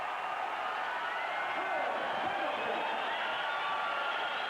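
A distant, steady roar from a boxing crowd on its feet at Caesars after the Pendleton vs Paez title fight, a continuous wash of cheering with faint commentary beneath it.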